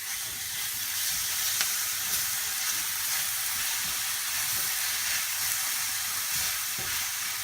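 Onions, garlic and spices sizzling in a frying pan while being stirred, a steady close frying hiss with soft scraping of the spoon throughout, no voices.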